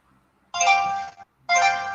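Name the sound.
mobile phone ringing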